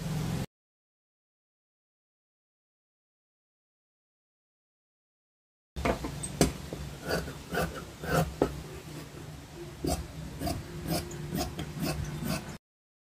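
Scissors cutting the front piece of a lined blouse fabric, a close series of crisp snips and rasping rubs after a stretch of silence.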